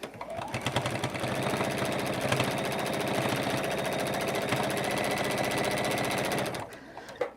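A sewing machine stitches scrappy fabric for a mini basket in a fast, even mechanical rattle that runs loud and steady for several seconds before stopping abruptly, followed by a brief knock.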